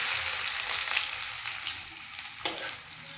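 Onions frying in hot oil with whole garam masala and curry leaves for an egg curry, a steady close hiss of sizzling with a brief stirring scrape partway through, no talking.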